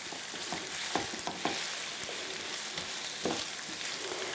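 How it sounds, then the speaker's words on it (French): Tofu roasts in oil in a pan for a stir-fry with vegetables and onion, giving a steady quiet sizzle broken by scattered stirring scrapes and clicks, close and without talk. "faire rôtir graduellement le tofu"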